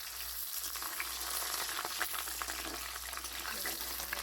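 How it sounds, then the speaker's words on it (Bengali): Potatoes fry in mustard oil with a faint, steady sizzle and crackle, flecked with small pops and light stirring. "সরষের তেল দিয়ে নিলাম, আলুগুলো দিয়ে দেবো"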